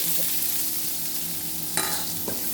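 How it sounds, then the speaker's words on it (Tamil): Chopped onion sautéing in a pan with fennel powder for a Tamil agathi keerai stir-fry: a steady low sizzle throughout, broken by a couple of short spatula scrapes and stirs, with no talking. "கொஞ்சம் நேரம் ஒரு பாதி வதக்கினா போதும் ரொம்ப வதங்க வேண்டாம்"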